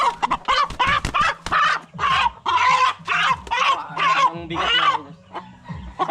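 A large Asil breeder chicken clucks close by in a series of short, loud, throaty calls that come in quick bursts, with a few lower, muffled thuds and a faint voice underneath.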